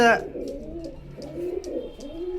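Pakistani royal teddy pigeons give soft, repeated throaty coos, fairly close, following a brief opening burst.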